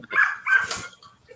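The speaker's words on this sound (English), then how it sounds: "I hear doggies." Several dogs bark and yip at a distance in a brief burst, fairly loud, as a cat runs by outside.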